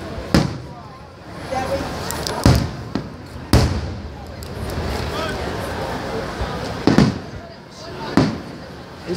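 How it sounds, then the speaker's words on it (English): Sharp fireworks bangs pop irregularly every second or two, some doubled, over a background of crowd chatter and voices. "These fireworks aren't very interesting"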